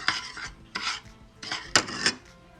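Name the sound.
mixing honey chicken barbecue marinade ingredients in a bowl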